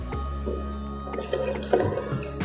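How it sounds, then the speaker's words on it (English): Juice pouring into chopped pineapple in a blender jar, a steady splashing liquid stream that grows brighter and more turbulent as it fills, close and clear with no talk. "So we'll pour our juice"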